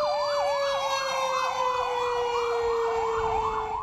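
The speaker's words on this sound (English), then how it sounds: "Sirens could be heard from every direction in Passaic as the fire raged out of control." Several emergency sirens wail at once in Passaic during a large fire, one rising and falling in quick cycles over a steady high tone, loud and continuous with no talking.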